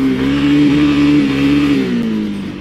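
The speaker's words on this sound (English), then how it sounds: "it revs up so quick off first." Close, loud revving from a 2022 Honda CRF300L dirt bike in first gear, a buzzy tone climbing quickly in pitch then easing off as the throttle drops.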